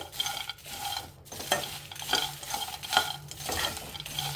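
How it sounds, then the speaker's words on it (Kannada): Peanuts dry-roasting in a pan are stirred in repeated scraping strokes, their dry rustle and soft clatter rising and falling close by at a low level, with no one speaking. "ಮೊದಲಿಗೆ ಶೇಂಗಾನ ಹುರ್ಕೋಬೇಕು"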